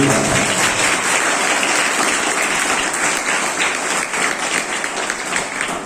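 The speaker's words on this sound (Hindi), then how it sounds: "एक बार मैं चाहूंगा इस विद्यालय के सारे शिक्षक और सारे हमारे शिक्षिकाओं लोगों के लिए एक ताली जो उन्होंने काम किया।" An audience at a school gathering claps for the school's teachers, dense and steady applause filling the room without pause at fairly close range.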